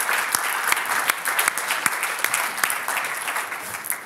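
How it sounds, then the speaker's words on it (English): Audience applause at a conference panel on digitalisation policy, a steady crowd of many hands clapping, fairly loud and continuous throughout. "Please give him a round of applause."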